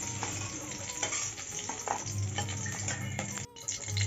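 Close, crackling sizzle of capsicum frying in oil in a wok, punctuated by stirring scrapes and spatula knocks.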